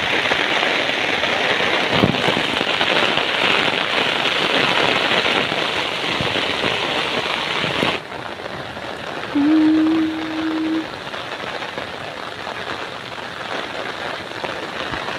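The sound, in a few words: rain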